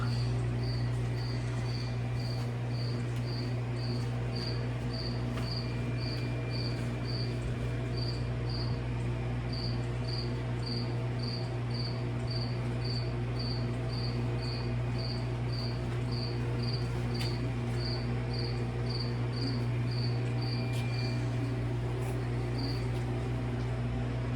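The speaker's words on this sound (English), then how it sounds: "There's a cricket in here." A cricket chirps in steady, evenly spaced pulses, close by and fairly clear, over a constant low hum indoors at a Narragansett Bay, Rhode Island site, with no talking.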